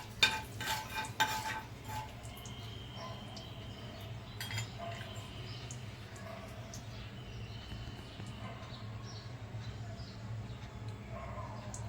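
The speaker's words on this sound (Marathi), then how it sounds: "तेल गरम झालंय. त्यात आता आपण छोटा पाव चमचा हिंग ॲड केलं याच्यात." Asafoetida dropped into hot oil for a Maharashtrian kolim-stuffed brinjal curry gives a faint steady sizzle, with a few clinks and scrapes of a utensil near the start.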